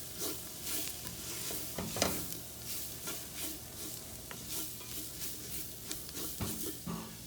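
Garam masala and chili spice blend frying in a pan for chicken tikka masala, a steady soft sizzle with intermittent stirring scrapes and light clinks, close and continuous with no talking.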